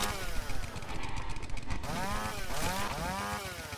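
Revving chainsaw in the Roblox horror game Traversal, a loud, close buzzing whine that rises and falls in pitch through repeated throttle surges, with no talk over it.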